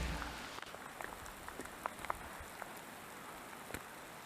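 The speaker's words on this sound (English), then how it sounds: "but it's definitely raining." Steady, soft rainfall hisses in the background at Lake Virginia, with scattered light taps of drops hitting a nearby surface.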